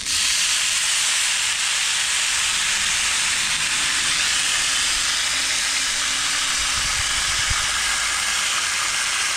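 Marinated, seasoned ribeye steak with Worcestershire, crammed into an undersized pan, hisses and sizzles loudly and steadily throughout, a dense broadband spatter close by with no talking.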